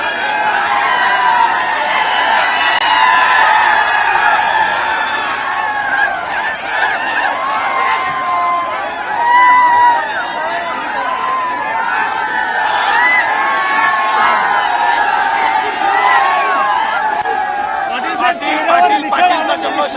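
A jubilant crowd celebrates a Maratha reservation victory, with dense overlapping shouts, whoops and cheers that run continuously and loud throughout, and voices mixing into a steady roar.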